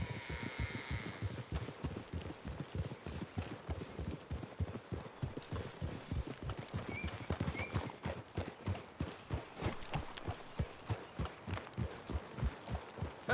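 Horse hooves in Red Dead Redemption 2 clip-clop steadily through a wooded area, the close, continuous rhythm of riding horses running through the whole stretch with no talk.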